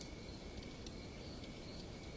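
Crickets chirping at night in a steady, dense drone of high trilling with a few brighter pulses standing out, continuous and even throughout, with no voices.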